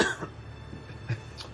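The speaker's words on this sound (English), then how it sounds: "I've got like a... I had the flu like 4 or 5 days ago." A lingering post-flu cough: a few short, dry coughs or throat-clears at close range, spaced across a brief moment with no talking.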